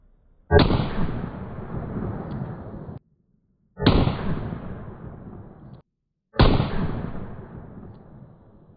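Three loud gunshots from a 3-inch barrel pistol firing 158 grain loads with non-magnum primers, each a sharp crack with a decaying boom, evenly spaced about three seconds apart, no talking.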